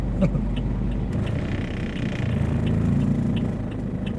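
Steady low rumble of a car being driven, a continuous interior engine and road drone that swells slightly midway, with faint voices in the background.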